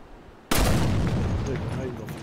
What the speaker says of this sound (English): I'm gonna shoot the bomb.